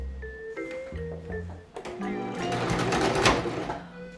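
A home sewing machine struggles during corset construction, its motor hum wavering and stuttering unevenly as a bobbin thread problem makes it stall, growing louder and rougher toward the end with no talking.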